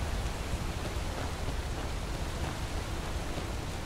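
Steady rain in a brief flash storm within the video game Skyrim, a constant even hiss of falling drops filling the whole clip with no other sounds or voices.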